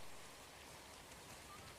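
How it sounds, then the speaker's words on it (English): Steady rain falls in Pillars of Eternity 2, a dense, even hiss that holds at a constant level through the whole stretch, with no voices over it. "The rain actually makes the skin wet."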